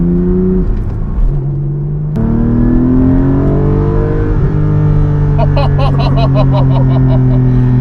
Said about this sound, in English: Out on track, first time in the GT4 with Clear